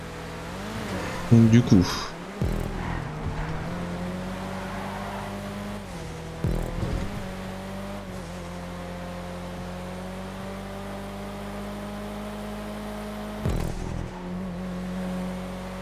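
Cars racing in GTA Online, a steady engine drone with shifting pitch, interrupted by sharp crashes and bursts of revving, while voices talk over the action.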